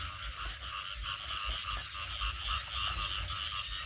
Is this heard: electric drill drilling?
no